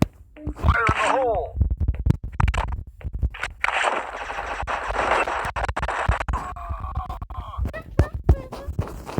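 Rapid gunfire from a legendary gun in the shooting game Crisis Action, loud bursts with dense clicking shots and effects, and voices talking over parts of it.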